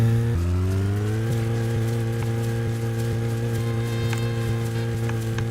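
A video game car engine drones steadily and loudly, its pitch jumping up at the start as it revs, then holding an even hum while driving.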